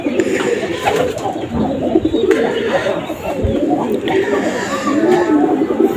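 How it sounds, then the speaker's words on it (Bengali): A pigeon bought at a market coos in soft, repeated throaty phrases close by, over a busy background with muffled voices and other bird chatter throughout. "পায়রাটা আমি কালকে হাট থেকে কিনে নিয়ে এসেছি।"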